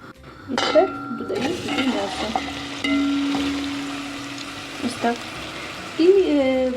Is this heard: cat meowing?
no